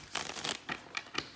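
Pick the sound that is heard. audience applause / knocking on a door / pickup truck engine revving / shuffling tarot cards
shuffling tarot cards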